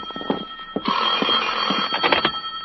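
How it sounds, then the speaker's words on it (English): An old-time radio drama telephone ringing, with a bright, continuous bell-like ring lasting over a second, surrounded by short clicks and handset rattles, heard clearly and close without any talk. "At 10, my phone rang."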